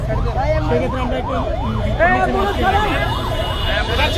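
An ambulance siren wails in repeated rising and falling sweeps through a noisy street crowd in Mirpur, loud and close, with people talking and shouting over it throughout.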